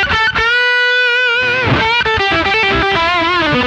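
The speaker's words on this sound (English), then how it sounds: "all the way to the left gives you increased mids, flat bass, and a little bit of rolled off highs for singing lead tones like this" A Randall RD1C 1-watt tube combo amp plays a singing lead tone with boosted mids, flat bass and slightly rolled-off highs: sustained, distorted guitar notes bending and sliding, loud and up close, with no talking.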